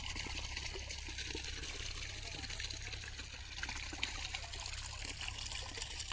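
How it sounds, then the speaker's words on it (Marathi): Pesticide trickles and pours steadily into a sprayer pump's water tank close by, a continuous soft splashing with a low hum underneath. "हे औषध आम्ही पाण्यामध्ये टाकणार आहे आता"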